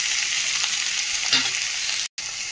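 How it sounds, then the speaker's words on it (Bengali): Crushed garlic and chopped chillies sizzle steadily in hot fish oil, a close, continuous frying hiss with a light stir partway through and a brief cut near the end. "যে তেলটা গরম হয়ে গেছে, এর মধ্যে যে রসুন কটা থেতো করে রেখেছি, লঙ্কা কুচি সব দিয়ে দিলাম"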